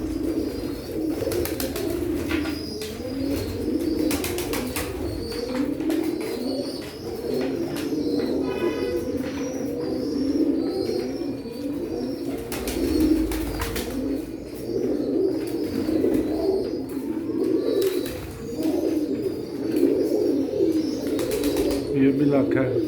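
Pigeons, including a large French pigeon and other fancy breeds, coo steadily and continuously at close range, with occasional chirps and a brief flutter of wings, while someone talks over them throughout.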